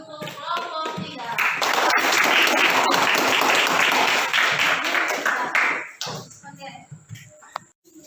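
A classroom full of students applauds group 3, a dense burst of clapping that swells, holds for several seconds and fades, with faint voices at the start and end.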